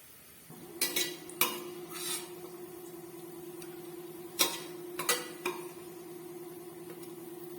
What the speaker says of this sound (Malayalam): ഇനി നമുക്കൊരു പാത്രത്തിലേക്ക് ഇത് കോരി മാറ്റാം